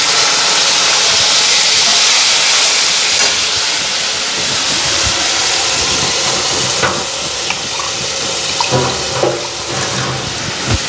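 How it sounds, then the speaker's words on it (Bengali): Spices frying in hot oil give a steady, loud hiss and sizzle, with a few small crackles and pops near the end and no talking. "একটু মশলাটা ফ্রাই হোক,"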